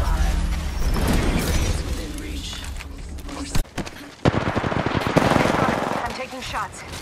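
Rapid automatic gunfire rattles almost continuously in Apex Legends on PS4 Pro, loud and close, broken by a couple of sharp single cracks and mechanical clicks near the end.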